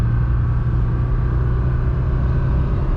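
A Mercedes 240 (W123) cruising at about 45 mph on a slight downhill, its engine a steady, loud low drone with road rumble as it climbs to the top of third and shifts into fourth.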